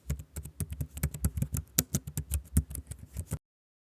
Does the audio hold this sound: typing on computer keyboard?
yes